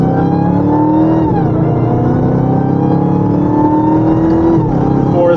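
A loud, close Dodge Hellcat engine revs continuously with a high supercharger whine, pitch rising and dipping twice as the throttle shifts.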